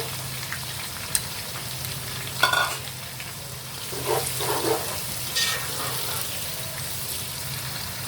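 Chopped onions frying in a pot for beef rezala, a steady broadband sizzle under a low hum, with a few stirring scrapes and clinks rising briefly partway through; no talking.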